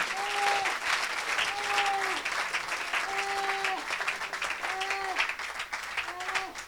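A church congregation applauding for the Holy Spirit, sustained loud clapping filling the room throughout, with repeated long sung or shouted vocal tones rising over the applause.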